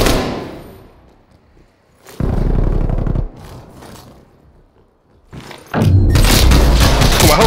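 A grenade blast in a first-person shooter: a deep boom hits around two seconds in, fades into rumble, then a second loud, heavy explosion with scraping debris bursts out near the end.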